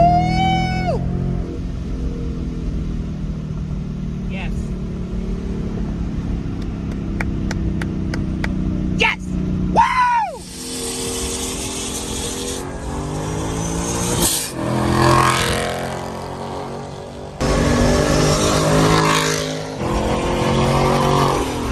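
A supercharged 2021 Ford Mustang GT with a Procharger roars as it accelerates hard through the gears, engine pitch climbing and dropping at each shift, loud and close from inside the car, with brief excited voices between pulls.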